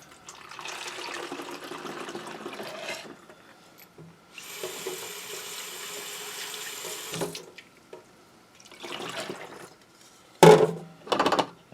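Tap water running into a row of Procion dye mixing bottles for tie-dye, filled one after another in several steady gushing bursts with short pauses between, close and alone.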